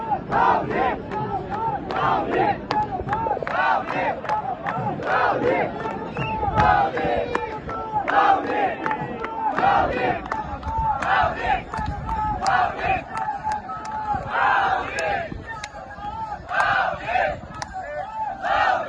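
A dense crowd at the Dnyaneshwar Mauli palkhi procession at Nira, loud continuous chanting and shouting from many voices close by, rising and falling throughout.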